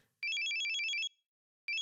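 Phone ringtone in the Steins;Gate 0 visual novel game: a loud, rapid electronic trilling melody of alternating high tones that plays for about a second, stops, then starts again, with no voices.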